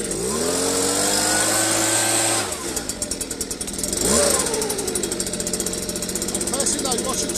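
Gas leaf blower engine, a Stihl or Husqvarna backpack model, revving loudly up close and dropping back, then surging again with a rough, buzzing two-stroke whine.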